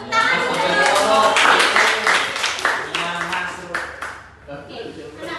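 A classroom of children clapping for a classmate during a school lesson, a brisk burst of many hands that fades out, with a voice over it.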